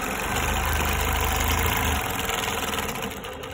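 A longarm quilting machine stitching a custom Baptist fan pattern, its motor giving a steady, loud mechanical hum with a rapid rhythmic pulse close by, and no talking.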